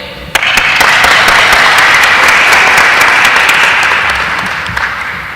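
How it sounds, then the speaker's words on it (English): A large crowd at Arkansas Boys State breaks into loud, sustained applause that starts abruptly, holds steady and slowly fades toward the end. "I need to give all of you a round of applause for being here today."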